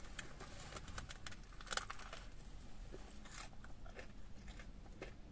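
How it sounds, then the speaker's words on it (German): Someone bites into and chews a crispy McDonald's McCrispy chicken burger up close, with a run of crunchy snaps and irregular chewing crackles over several seconds. "Und es knuspert auch tatsächlich so ein bisschen."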